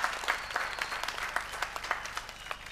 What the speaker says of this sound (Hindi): आपने मेरी कविता सुनी भी नहीं और तालियां बजा